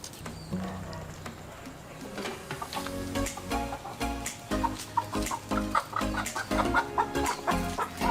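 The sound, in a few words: chickens clucking while being fed fruit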